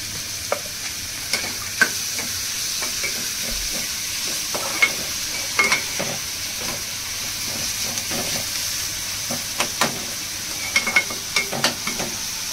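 Onion frying with salt in a pan for a wet cashew vegetable dish: a soft, steady sizzle runs throughout, broken by repeated sharp scrapes and taps of a spoon against the pan, with no talk.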